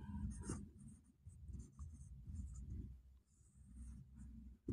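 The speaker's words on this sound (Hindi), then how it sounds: "तो यहाँ लिखेंगे यूक्लिड" Chalk or marker scratching across a classroom board during a Class 10 maths lesson, a steady run of close, short writing strokes with brief pauses between them.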